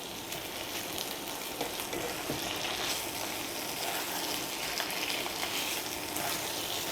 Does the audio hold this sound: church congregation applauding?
no